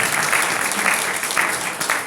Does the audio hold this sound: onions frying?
no